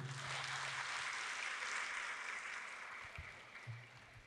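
Faint, distant applause from a seminar audience, a steady wash of clapping with a low hum beneath and no talk.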